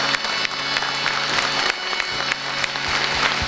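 Audience applause at a Ram Katha event welcoming a singer, a steady wash of clapping from a large crowd, fairly distant and continuous throughout.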